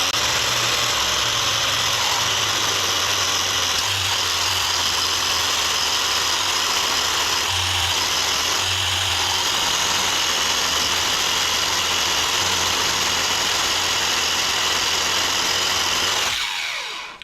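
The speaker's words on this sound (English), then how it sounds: "you can use something like this, a wire wheel." Wire wheel on a power tool scrubbing rust from a Troy-Bilt riding mower part, a loud, steady high whirring hiss with a low motor hum underneath, running continuously and cutting off abruptly near the end.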